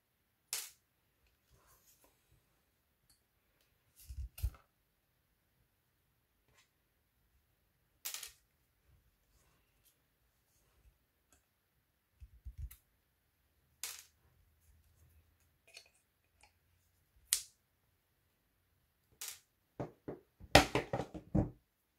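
Pliers pull metal tacks out of a picture frame, producing sparse, sharp metallic clicks and snaps separated by quiet pauses, with a quick cluster of clicks near the end.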